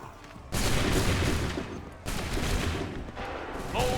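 Massed musket volleys crackle in a dense, loud wall of gunfire in an 18th-century battle in Assassin's Creed 3, with sharp renewed bursts at the start and again midway, rolling on continuously without pause.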